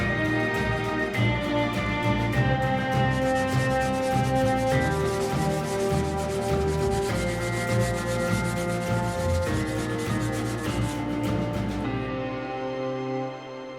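Continuous rhythmic rubbing of sandpaper over varnished wooden paint stir sticks being made into a table runner, loud and close, strokes repeating steadily for several seconds with no voices.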